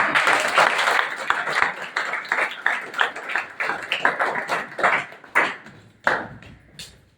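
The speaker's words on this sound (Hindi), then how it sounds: "पहले तो एक बार शानदार तालियां हो जाए।" Audience applause at a Hindi-language stage event, a burst of sharp, separate claps in an uneven rhythm that thin out and fade into a few scattered final claps.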